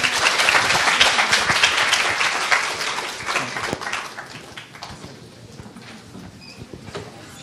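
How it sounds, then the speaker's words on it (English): A ceremony audience gives a sustained round of applause at a fellowship launch event, dense and loud clapping at first that gradually thins and fades toward the end. "Can we please give Dr. Zhou another big round of applause, please?"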